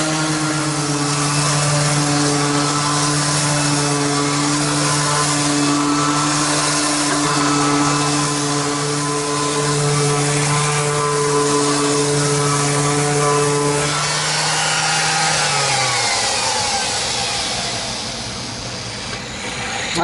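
Ridgid power sander running steadily and loudly at close range, a constant droning whir with grinding texture that winds down near the end, no talking.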